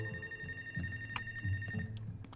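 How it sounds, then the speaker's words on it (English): Phone ringing in the video game Life is Strange: True Colors, a buzzing electronic ring pulsing in a steady repeated pattern at moderate volume over faint ambient tones and a few clicks. "Another phone call"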